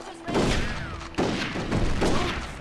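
Rifle gunfire in the Red Dead Revolver video game, several sharp booming shots in a rapid irregular burst with game sounds around them.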